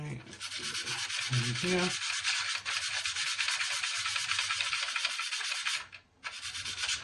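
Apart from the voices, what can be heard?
sanding and filing filler on a 1/32 Trumpeter Corsair model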